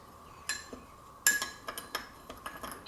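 A spoon stirring ground beef taco meat with seasoning in a bowl makes a few sharp clinks and scrapes against the bowl, spaced irregularly and fairly close, with no talking.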